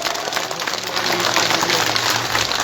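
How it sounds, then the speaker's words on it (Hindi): A crowd at an election campaign rally in Jamshedpur claps loudly for Banna Gupta, dense continuous applause with some voices mixed in. "एक बार अपने बेटा के लिए ताली बजा दीजिए आप लोग जोर से।"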